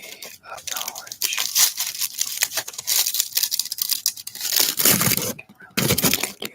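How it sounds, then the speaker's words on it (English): Packaging being unwrapped close up, with sustained crinkling, rustling and tearing of wrapper material in irregular bursts, plus soft whispery textures and a few brief pauses. "unwrapping."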